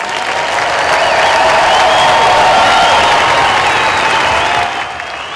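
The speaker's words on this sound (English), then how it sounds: "Again, one more round of applause for our graduates." Loud, sustained applause from a large audience for graduates at a 2018 college commencement ceremony, a dense continuous roar of many hands clapping that holds steady and then eases off slightly near the end.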